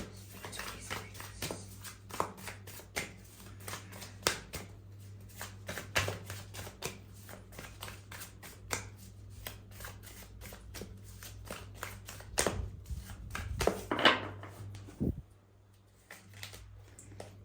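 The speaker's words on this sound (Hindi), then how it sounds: "ओके, पहले हम शफल करेंगे अच्छे से।" Tarot cards shuffled by hand in a quiet room, a steady run of soft riffling flicks and taps for most of the stretch, ending with a few louder slaps as the deck is squared, with no talking.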